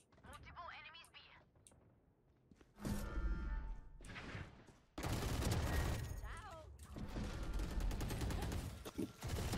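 Gunfire in a Valorant match comes in bursts of rapid shots and impacts, loud and close, between stretches of a voice talking over it.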